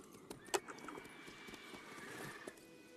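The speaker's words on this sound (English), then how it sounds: "So the fact that my horse is called Roach is quite funny" Horse in The Witcher 3 video game, with clip-clop hoofbeats and a sharp neigh, fairly faint in a quiet game mix with other soft effects.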